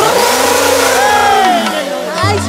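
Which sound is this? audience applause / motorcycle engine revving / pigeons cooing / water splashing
motorcycle engine revving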